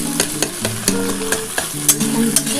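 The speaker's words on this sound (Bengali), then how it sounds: "ডিমটা একটুখানি ভাজা হয়ে গেছে" Beaten egg for a dhaba-style egg tadka fries in a pan with a steady sizzle, while a spatula taps and scrapes the pan in an irregular rhythm, close and clear with no talking.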